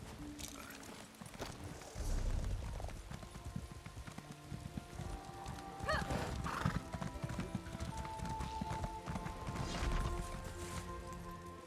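In Elder Scrolls Online, a horse's hooves clip-clop in an uneven rhythm, with a whinny and scattered clanks and thumps. The sound is quiet and has no talk over it.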